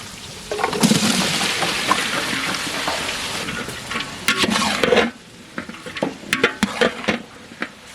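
Cauliflower tipped into a pan of sautéed onion and green chili for sambar, a loud hiss and sizzle with stirring that drops off abruptly into quieter clinks and scrapes, no talking.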